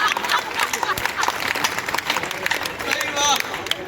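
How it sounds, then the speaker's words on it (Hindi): Audience clapping at a Hindi comedy poetry gathering, a dense patter of many hands that runs the whole few seconds amid crowd murmur, loud and close. "अब ताली बजाओ ढंग से"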